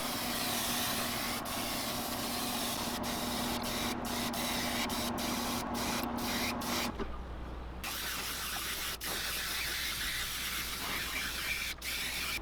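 Close hiss of clear coat paint being sprayed onto swimbait pieces in short bursts and longer passes, with a steady background hum cutting out partway through.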